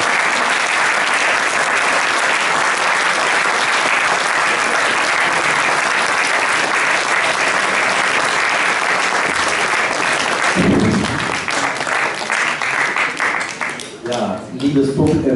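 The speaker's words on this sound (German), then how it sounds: "einen Applaus für Manfred Hintergacke" An audience gives loud, continuous applause for an award winner at a sports honors ceremony in Bad Salzuflen. The clapping holds steady and then thins out near the end as a voice begins to speak.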